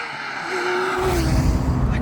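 A manual Porsche 991.2 GT3 engine runs with its exhaust valves closed, a muted, tappety mechanical growl that rises and thickens partway through, close and fairly loud.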